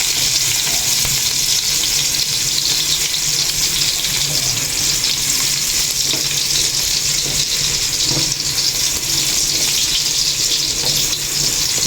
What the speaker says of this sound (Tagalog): Maya-maya po atin pong sasangkotsahin na po yung karne. Sasangkotsa na po ng karne.